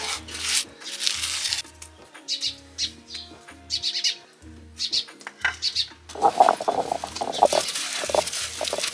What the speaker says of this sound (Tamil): அது கருங்கல்ல செஞ்ச உரல்